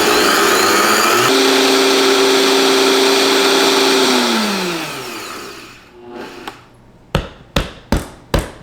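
A blender loudly whirs through an oat batter for a vegan breakfast recipe, running steadily then winding down, followed by a few sharp knocks as the jar is tapped.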